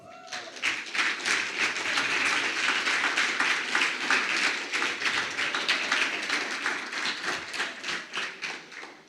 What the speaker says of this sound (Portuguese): Nesse momento você pode aplaudir a Jesus.